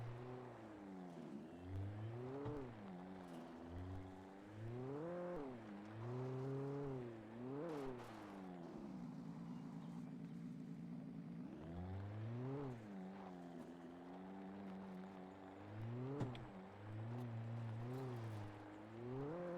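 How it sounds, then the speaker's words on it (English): A car's engine in the Alan Wake video game hums and whines steadily, pitch rising and falling in repeated revving swells as it drives, loud and continuous with no talk over it. "I'm gonna drive this car instead."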